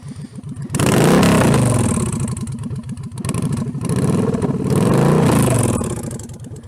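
A motorcycle fitted with Ground Pounders aftermarket exhaust from Conquest Customs revs hard twice, deep rumbling blats rising and falling, loud and close.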